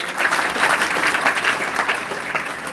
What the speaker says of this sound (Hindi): ताली लगाओ इसके लिए जरा